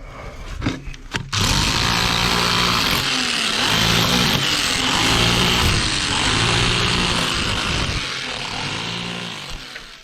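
Loud, steady mechanical hammering while a pump sump hole is dug out, a continuous pounding roar with a faint rhythmic pulse that runs close and unbroken for most of the stretch after a few brief knocks at the start.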